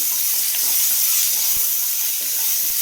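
Loud, steady sizzling of banana stem frying with rock salt in a hot pan, a constant hiss with a few soft stirring knocks.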